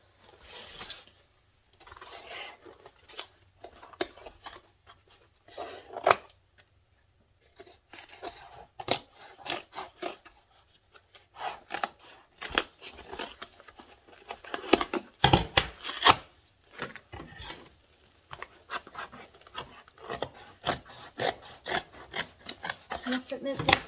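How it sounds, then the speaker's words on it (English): Scissors snipping and rasping through diaper cake material, with intermittent cuts and rubbing sounds close by in a quiet indoor setting. "I must admit these scissors are a little unhappy with me."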